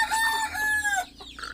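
A domestic chicken clucking close by, a drawn-out tonal call followed by a couple of short clucks, loud and clear over faint background.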